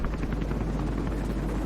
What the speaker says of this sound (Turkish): Gene bu helikopter ya.